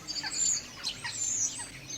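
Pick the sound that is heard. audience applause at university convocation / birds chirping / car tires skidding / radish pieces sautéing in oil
birds chirping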